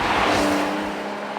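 A Porsche 911 of the 992 generation with a 3-litre flat-six engine gives a brief, loud, close growl that eases slightly as it continues.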